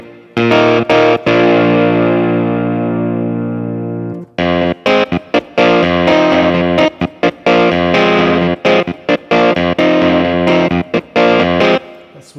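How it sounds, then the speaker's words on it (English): A Nord Stage 2 clavinet played through a distortion effect gives a gritty, buzzing sustained chord, then choppy funky staccato stabs, loud and close with no talking. "the clavinet and if the distortion on the Nord Stage sounds as good as that epic distortion that you get on the Nord Electro 2"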